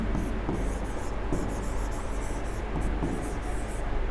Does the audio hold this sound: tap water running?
no